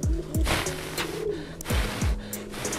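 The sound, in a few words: pigeons cooing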